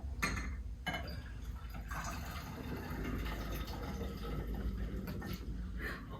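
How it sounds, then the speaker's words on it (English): Elephant toothpaste reaction of hydrogen peroxide and yeast foaming up and overflowing its container, a steady fizzing, bubbling liquid rush close by with continuous hiss and occasional splashy drips, no talking. "That is called Elephant Toothpaste."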